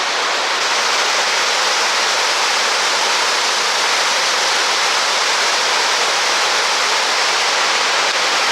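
A waterfall in the Letchworth State Park gorge in New York roars as a loud, steady broadband rush of falling water, unbroken throughout.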